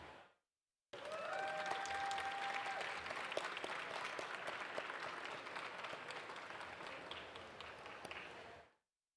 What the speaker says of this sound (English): Another round of applause for Nick